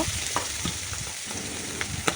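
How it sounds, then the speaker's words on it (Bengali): Puti fish frying in oil in a wok over low heat, a dense continuous sizzle with a few soft crackles and pops. "তো একটা কড়াই নিয়ে কড়াইটাতে তেল পরিমাণ মতো দিয়ে মাছগুলোকে আমি অল্প অল্প আঁচে করে ভেজে নেব"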